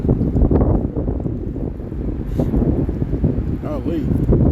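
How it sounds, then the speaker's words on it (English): Strong wind buffets the microphone with a constant low roar, while someone talks over it. "It's real windy out here,"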